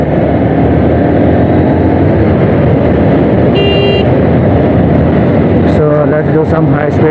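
Honda Hornet 2.0 motorcycle engine at high speed on the road, a loud constant roar mixed with heavy wind rush, with a short high tone and a few clicks toward the end.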